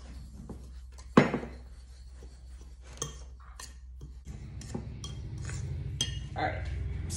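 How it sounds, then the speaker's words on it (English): Pumpkin bread ingredients being stirred in a mixing bowl, with a sharp clink near the start followed by repeated soft scraping and tapping of a utensil against the bowl, over a steady low hum. "1/2 teaspoon of salt. All right, so we're gonna mix this in good."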